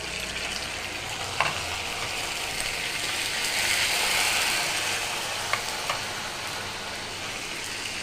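Onions fry in a pan with ginger garlic paste, a steady hiss and crackle with occasional spoon clicks and scrapes against the pan.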